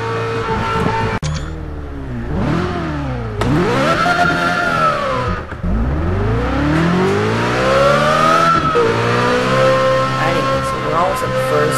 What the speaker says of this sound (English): the Nissan 370Z, and oh my, does it ever sound horrible